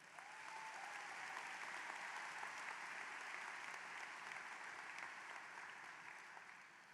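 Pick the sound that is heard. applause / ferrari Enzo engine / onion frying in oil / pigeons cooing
applause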